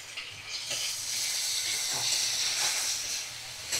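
Ginger-garlic paste with Kashmiri red chili powder sautés in a pan, making a close, steady frying hiss and sizzle with light stirring scrapes through it.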